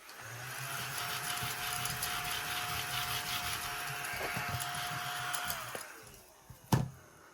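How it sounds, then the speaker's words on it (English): A vacuum machine runs with a steady, loud whirring drone for several seconds, then winds down and stops, followed by a brief clunk. "Let's vacuum it off."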